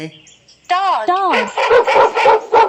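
A few short dog barks and yips follow a whining tone, loud and close, in a quick series; the sounds appear to be a voice imitating a dog.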